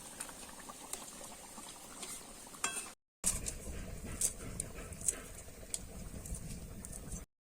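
Koi fish in a mustard curry simmers uncovered in a pan, giving off a steady soft bubbling patter with scattered little pops and clicks that continues after a brief cut.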